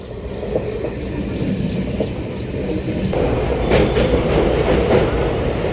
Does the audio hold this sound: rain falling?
no